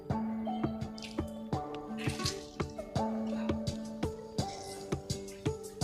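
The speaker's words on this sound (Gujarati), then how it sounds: "આમ હાથમાં લેવાના ને આવી રીતના દબાવશું તો બધું પાણી નીકળી જશે" Water drips and trickles repeatedly as grated bitter gourd is squeezed by hand, a rhythmic series of splashy drops close to the microphone.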